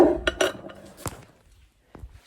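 Metal cutlery clinks against dishes at home as a few utensils are handled, several short close clatters over about a second, then quieter faint taps.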